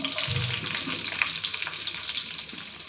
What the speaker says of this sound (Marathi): आता आपण टाकणार आहे बारीक चिरलेलं लसूण